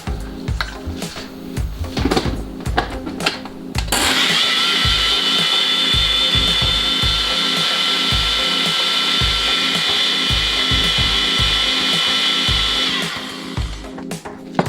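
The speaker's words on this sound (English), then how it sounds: "I'm going to put this on the blender." Countertop blender whirring through sea moss, starting after a few seconds of clunking handling, then a loud steady motor drone for about nine seconds before cutting off.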